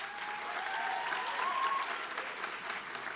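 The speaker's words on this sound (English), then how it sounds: "Can we have a round of applause for Anna Paula?" Audience at a pro bono recognition ceremony giving a round of applause, dense clapping that swells and holds steady for a few seconds at moderate distance.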